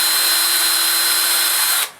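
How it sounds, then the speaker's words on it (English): A power drill with a small bit whines steadily as it bores a pilot hole into wood for a fish taxidermy mount. The tone is high and constant, then stops abruptly near the end. "So I've taken a small bit on my drill"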